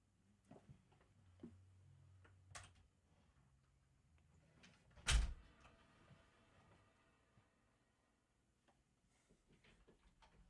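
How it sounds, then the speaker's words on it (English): A studio door shuts during a live radio concert broadcast, landing as a single loud thud midway through an otherwise quiet room with faint scattered ticks and low rumble. "Do we need to shut the door?"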